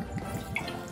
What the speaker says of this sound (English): Whiskey. Pour.